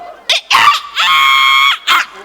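On stage, a performer's voice imitates a chicken, giving short squawking clucks followed by a long, strained crowing cry and another brief squawk, loud and close.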